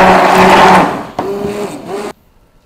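Electric mixer whirring through Brussels waffle batter of milk and flour, a loud close motor drone that dips briefly, restarts, then cuts off abruptly.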